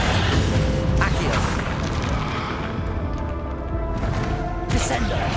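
Booming explosions from the Bombarda spell in the Hogwarts Legacy video game, loud and continuous with crackling bursts and a sharp blast near the end, mixed with other game effects and voices.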